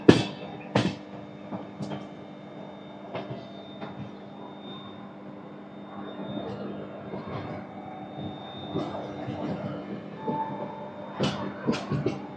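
The Toofan Duronto express from Yesvantpur to Delhi Sarai Rohilla rolls along with a low continuous rumble, punctuated by sharp clanks and rattles of the carriages over rail joints near Nagpur.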